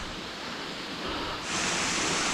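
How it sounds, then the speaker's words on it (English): Blackden Brook waterfall on Edale Moor, a drop of about 15 to 18 feet, gives a steady close broadband rush of falling water that grows louder and brighter partway through. "Blackden Brook waterfall."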